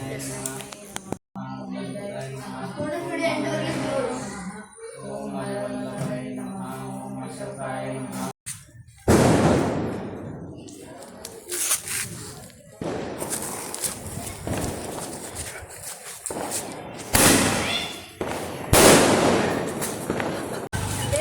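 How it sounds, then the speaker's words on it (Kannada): Diwali firecrackers burst at a home celebration, loud sharp bangs and crackling blasts coming in repeated rapid bursts after a stretch of people talking, with short gaps between volleys. "ನಾವು ಹೋಗಿ ಪಟಾಕಿ ಹಚ್ಚೋಣ"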